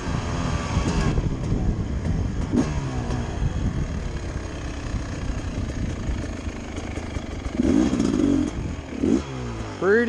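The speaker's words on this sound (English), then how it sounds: "let's do the dead engine start test" A 2021 Beta 300 RR two-stroke dirt bike starts from a dead engine in second gear and accelerates. The engine revs rise and fall repeatedly and end with a sharp climbing rev near the finish, moderately close, with no speech.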